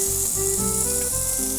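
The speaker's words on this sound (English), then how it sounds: "sizzling sound." Shrimp sizzle hard in a hot pan over high heat, a loud, continuous crackling fry up close with a faint hum running beneath.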